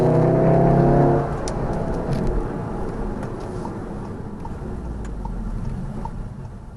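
Manual VW Golf R hot hatch engine revving toward redline, a loud, close mechanical roar that is strongest at first, then settles into a sustained drone.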